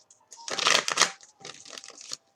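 Gilded Tarot and Egyptian Lenormand cards are shuffled by hand, making close papery riffling bursts, one long and several shorter, with quiet gaps and no talking.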